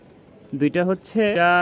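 Pigeons cooing in a loft, a few close, throaty coos in short bursts that rise and swell, with the last call held longest.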